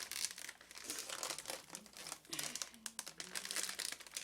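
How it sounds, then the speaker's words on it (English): A plastic piping bag being filled with shortbread cookie dough crinkles and rustles continuously at close range, quiet but steady. "what I do is just fill the piping bag with the"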